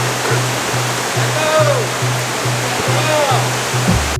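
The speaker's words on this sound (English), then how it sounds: "This is our first, I would say second waterfall." A waterfall and river on a group hike at Gunung Stong in Kelantan, Malaysia, give a loud steady rushing roar, with faint chirping birdsong and a regular pulsing hum beneath.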